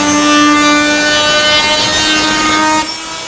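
A Fein Multimaster FMM350Q oscillating tool, fitted with a spatula blade, cuts through soft floor covering, giving a loud, steady buzzing whine with sharp harmonics that drops off slightly just before the end.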